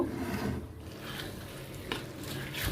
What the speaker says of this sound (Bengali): এই যে আমার রোস্টটাকে আমি ভালোভাবে মশলার সঙ্গে একটু আর কি কষিয়ে নিলাম